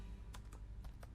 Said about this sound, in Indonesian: kalian ketik aja seperti biasa ya